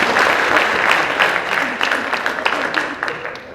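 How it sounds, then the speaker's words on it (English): Audience clapping during a professor's conference lecture on food and agricultural waste valorization, a dense, moderately loud burst of applause from a seated crowd lasting a few seconds. "I like the clapping, you know why?"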